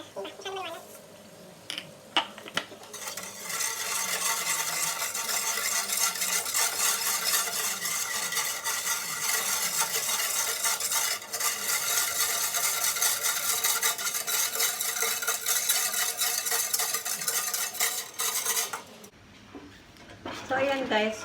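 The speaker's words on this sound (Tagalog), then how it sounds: "continuous stirring lang siya. Halo lang tayo ng halo hanggang sa kumulo." A spoon stirs a gelatin dessert mixture with sugar in a pot as it heats toward a boil. Soft scraping and swishing run steadily under a constant bright hiss for most of the stretch, and a voice talks at the start and end.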